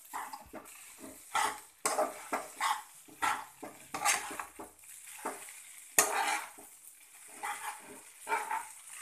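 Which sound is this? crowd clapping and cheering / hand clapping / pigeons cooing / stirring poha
stirring poha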